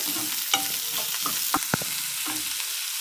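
Green chillies fry in a pan for village-style ragi roti, a continuous close sizzle broken by sharp scrapes and clacks of stirring.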